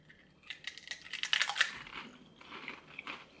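Close, loud crunching of Lay's limited edition potato chips (Salsa Fresca or Cuban Sandwich flavor), a burst of several crisp bites and chews peaking mid-clip, then softer chewing fading out, with no talking.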